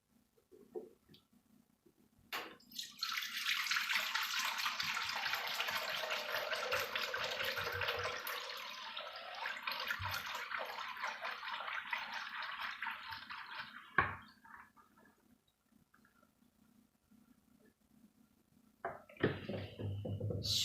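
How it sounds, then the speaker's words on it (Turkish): Milk poured into a container for homemade cheese, a steady broadband splashing stream running about ten seconds, then stopping, with brief handling clatter at the end. "Şimdi 5 kiloluk sütümüzü kabımızın içerisine koyalım."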